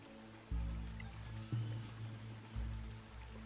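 A waterfall and stream rush steadily beside a swamp in the fantasy video game Solasta, a soft continuous wash of water with low thuds recurring about once a second.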